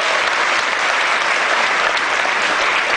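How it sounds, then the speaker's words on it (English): Audience applause at a business convention, a loud, dense and steady round of clapping from a large crowd, sustained evenly for a few seconds with no speech on top. "Can we give him a round of applause?"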